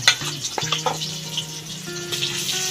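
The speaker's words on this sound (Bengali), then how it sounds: "এবার মাছ ছাড়িয়ে দেবো।" Fish frying in a little hot oil, a dense, bright, continuous sizzle up close with steady crackle throughout and no talking.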